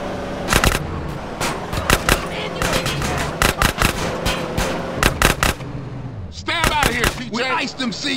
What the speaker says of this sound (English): we'll take care of the shooting